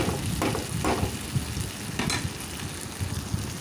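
A ladle stirs potato and tomato curry in a sizzling pan, with a constant moderate fry hiss broken by a few soft scraping strokes at irregular intervals.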